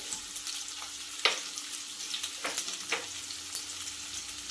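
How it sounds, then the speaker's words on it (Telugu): Sliced onions and green chillies frying in oil in a kadai, a close, steady sizzle with scattered sharp crackles and pops throughout, heard alone without speech. "ఇప్పుడు మళ్ళీ అదే కడాయిలో కొంచెం ఆయిల్ వేసుకొని కట్ చేసి పెట్టుకున్న ఉల్లిపాయలు, పచ్చిమిర్చి వేసుకోవాలి"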